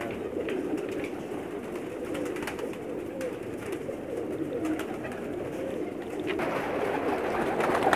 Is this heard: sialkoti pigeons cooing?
yes